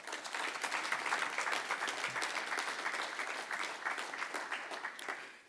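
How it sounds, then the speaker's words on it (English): A round of applause at a civic celebration led by city officials, steady dense clapping from a crowd that holds for several seconds and then fades out at the end. "let's give them a round of applause as well"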